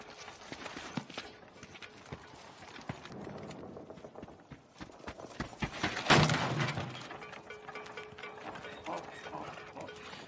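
A donkey's hooves clip-clop steadily on hard ground among clattering and mechanical rattling, moderately distant, with a sharp crash partway through and little talk.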